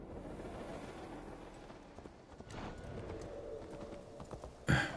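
Steady clip-clop of a horse's hooves as a rider travels in Assassin's Creed Valhalla, a rhythmic trotting beat over soft ambient game sound, ending with a brief louder burst.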